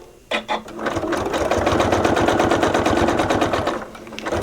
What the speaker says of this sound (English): We're going to sew to that point, and then we're going to sew diagonally off the edge.